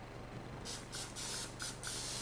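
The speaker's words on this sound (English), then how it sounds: "Don't be afraid to spray that." Cooking spray misted from an aerosol can into a baking pan for mango macadamia nut bread, in four short hissing bursts over a low steady background hum.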